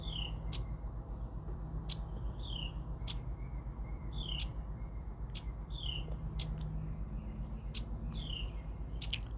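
A pet bird gives short, sharp chirps, about eight of them evenly spaced over a quiet indoor background with a faint low hum.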